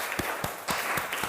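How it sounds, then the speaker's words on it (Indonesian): A classroom of students clapping for a presenting group, a quiet, sparse patter of individual claps in a loose rhythm, heard from a short distance with no voices over it. "Kita berikan tepuk tangan untuk kelompok"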